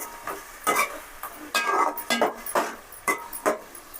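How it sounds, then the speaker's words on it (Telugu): A spoon stirs dried fish curry in a pot with irregular scraping and sloshing strokes, close and fairly loud, separated by short pauses. "ఒకసారి కలిపేసుకోవాలి మొత్తం."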